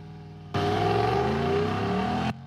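A 2022 Jeep Grand Wagoneer with a 6.4-litre V8 accelerating hard from a standstill without launch control, a loud rising engine roar that starts abruptly, climbs through the revs and cuts off just as sharply, with no voices.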